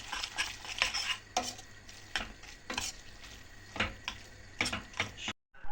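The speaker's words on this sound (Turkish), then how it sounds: "önceden haşladığım yarım paket makarnamı da sosuma karıştırıyorum arkadaşlar" Boiled pasta being stirred into tomato sauce in a pan, quiet repeated scraping and clinking strokes of a utensil against the pan in an irregular rhythm, no voices.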